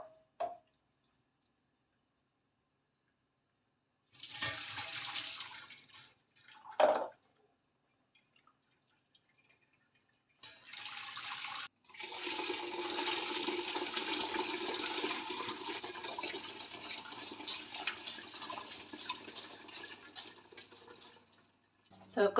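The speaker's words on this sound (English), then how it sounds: "I'm now just going to strain all of this broth into a large soup pan" Homemade bone broth strained into a large soup pan, heard as a short splash, a brief gush, then a long steady pour of liquid running and sloshing through the strainer, fairly close with quiet gaps between.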